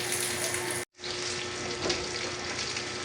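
Cooking oil bubbling and sizzling as fish caught off Polillo Island fries, a dense, steady crackle heard close up, broken by one brief silent gap, with no voices.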